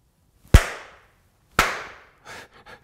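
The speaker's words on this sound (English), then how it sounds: "Barely hear myself clapping" Two sharp hand claps spaced about a second apart, each ringing briefly with a decaying tail, heard up close through ear muffs, followed by a few softer faint sounds.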